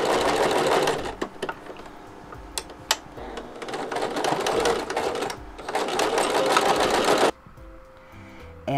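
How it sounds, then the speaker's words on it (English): A sewing machine runs in steady bursts while stitching the strap of a child's apron, a close, continuous mechanical whir that stops briefly a few times and then cuts off near the end. "I sew all the way down and across on each end."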